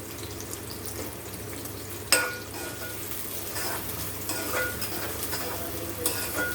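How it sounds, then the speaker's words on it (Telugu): Chopped onion and green chilli pieces sizzle and fry steadily in a pan of hot oil, with occasional stirring scrapes and a sharper clatter of a utensil partway through. "ఉల్లిగడ్డ, పచ్చిమిరపకాయ ముక్కలు వేయాలి. ఈ ఫ్రై అవ్వాలి."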